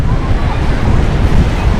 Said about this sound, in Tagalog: medyo mahangin dito ngayon